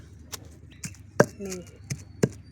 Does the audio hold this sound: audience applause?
no